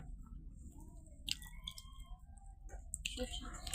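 A woman chews a mouthful of bharta made with dried chillies, with soft, close wet smacks and small clicks under quiet murmured speech.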